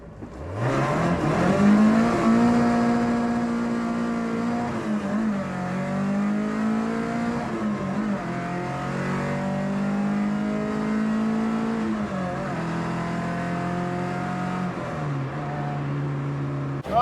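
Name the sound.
car revving to test clutch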